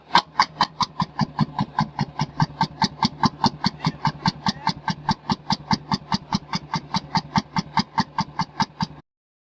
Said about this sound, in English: Old tractor.